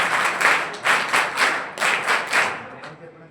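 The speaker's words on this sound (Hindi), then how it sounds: "पुनः एक बार बड़ी ताली" An audience claps at a school board-exam award ceremony, with several loud waves of applause that swell and fade in rhythmic bursts before dying away.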